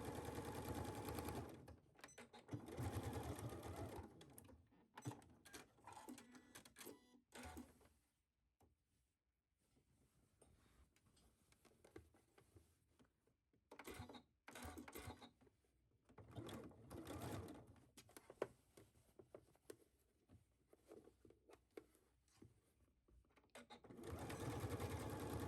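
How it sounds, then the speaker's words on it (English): A sewing machine stitches down the armhole facings of a sleeveless blouse, running in steady whirring bursts separated by brief pauses, close and fairly loud. "go ahead and stitch down the armhole facings the same exact way."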